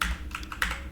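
Computer keyboard keys clack in a quick run of close, crisp taps while someone works through a SQL Server database tutorial; no voice is heard over the typing.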